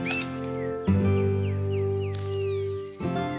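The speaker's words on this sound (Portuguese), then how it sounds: "Nas margens do rio, identificamos mais espécies de aves" Birds call along the banks of the Paraguay River in the Pantanal, with several short rising and falling whistled chirps over a steady low hum, the notes close and fairly clear.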